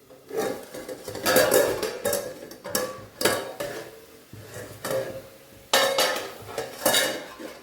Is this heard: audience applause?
no